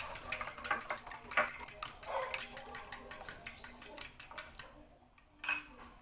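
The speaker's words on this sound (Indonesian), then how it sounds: "Selanjutnya kocok lepas menggunakan garpu." Two chicken eggs are beaten with a fork in a bowl, giving a quick, even series of close clinking taps that stops briefly and then returns with a couple more strokes. Faint talk is heard underneath.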